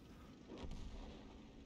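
A single deep artillery boom from World of Tanks, a muffled blast that swells and fades over about a second.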